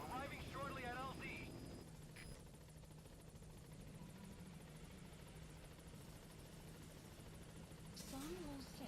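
A helicopter arriving at a landing zone in Metal Gear Solid V: The Phantom Pain, its steady rotor drone running throughout while voices talk over the start and the end.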